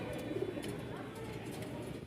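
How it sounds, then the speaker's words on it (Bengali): Racing pigeons, a pair, cooing softly nearby in a loft, with low repeated coos over faint background noise. "খুব সুন্দর একটা জোড়া কবুতরের"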